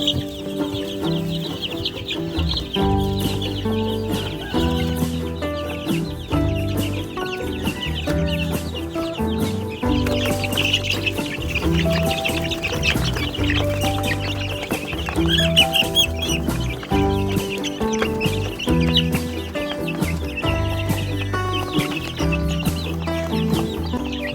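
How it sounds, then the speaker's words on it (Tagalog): Chicks and chickens clucking at a feeder amid a steady farmyard bustle, with continuous overlapping bird calls over a dense, loud background that does not let up. "ang bibilis nilang pumunta doon sa patukaan ng manok"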